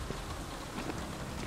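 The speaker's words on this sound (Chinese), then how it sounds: "下雨。" Steady rain pours in the open-world game inFAMOUS Second Son, a dense even hiss of drops spattering on surfaces with no gaps, moderately quiet and without any voices.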